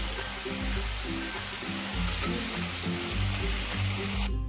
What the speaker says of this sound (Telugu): అలాగే తిప్పుకుంటా మనం వేయించుకోవాలి ఇలా వేయించుకోవాలండి